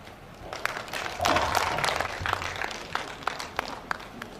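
Audience applause at a judges' refresher course on ADR, with scattered sharp claps that build into a fuller burst and then thin out to sporadic individual claps.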